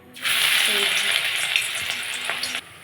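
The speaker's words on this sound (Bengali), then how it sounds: "বাকিগুলো একইভাবে ভেজে নেব" A burst of loud frying sizzle as small-prawn fritters go into oil starts abruptly, holds steady for a couple of seconds, then cuts off.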